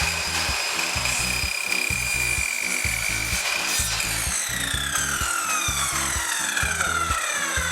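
An electric miter saw rips through a board in a workshop, a loud whining blade with rhythmic rasping bites as it cuts, the motor pitch shifting as the blade slows near the end.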